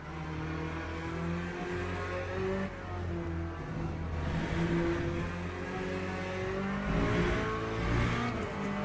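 A race car engine in the Le Mans Ultimate racing game revs loud and steady, its rising and falling engine tones and tire noise filling the whole stretch with no talk.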